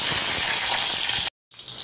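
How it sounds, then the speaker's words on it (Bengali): Eggplant slices fry in hot mustard oil with a loud, dense sizzle. The sound cuts out abruptly for a moment and then resumes more softly, with no talking. "তেল গরম হয়ে গেছে, এখন বেগুনগুলো আমি সব ভেজে নিচ্ছি।"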